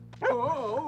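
A dog gives a short, whining bark and yip up close, a brief tonal vocal burst that wavers in pitch and then fades.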